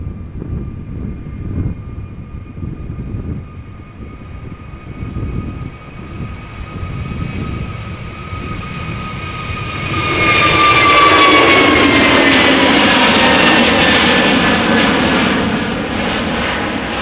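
A Pegasus Airlines Neo airliner's jet engines at Amsterdam Schiphol Airport: a rumble with a steady high whine at first, then a loud roar swells as the engines spool up, and the roar stays heavy and sustained to the end.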